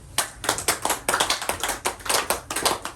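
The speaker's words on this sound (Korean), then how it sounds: "박수 한번 칠까요?" A small audience at a Korean talk claps hands in a brief burst. Distinct, fairly close claps fall in an uneven rhythm of separate slaps rather than a dense roar.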